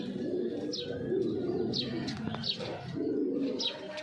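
A giribaz flying pigeon coos in low, rolling bursts close by, repeated several times, with brief high chirps from other birds between the phrases.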